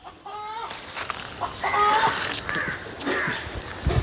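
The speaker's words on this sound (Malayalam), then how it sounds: "ഒരേ താളത്തിലെ കോഴി" A chicken clucks and squawks in short bursts in a Kerala home kitchen setting, fairly close, with a voice talking intermittently around the calls.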